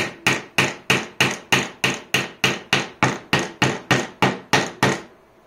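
Sharp hammer blows ring out one after another in a steady, even rhythm, about a dozen strikes close by, then stop.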